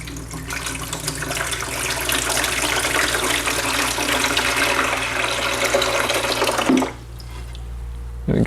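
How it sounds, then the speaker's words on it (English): Water pouring steadily into the tray of a budget wet tile saw, a continuous close gushing stream that stops abruptly near the end, followed by quieter room sound. "and we'll fill it up with some water."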